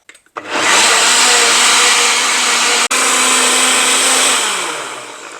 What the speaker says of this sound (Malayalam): എന്നിട്ട് നല്ല മഷി പോലെ അരയ്ക്കണം